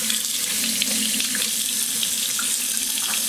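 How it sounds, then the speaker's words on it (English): Warm tap water pours steadily into a bath for a capuchin monkey, a close, continuous splashing rush with no voices over it. "The hot water has immediately started hitting Boo."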